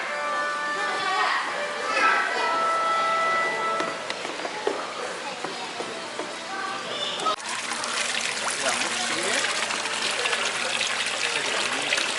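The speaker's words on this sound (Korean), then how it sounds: "물이 나온다" Water runs and trickles from a fish feeder at an indoor zoo, a continuous splashing flow that surges louder partway through, mixed with children's voices and chatter in a busy echoing room.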